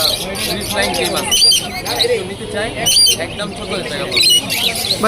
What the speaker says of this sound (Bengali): কোকারেল পাখি লাভবার্ড পাখি জাবা পাখি রয়েছে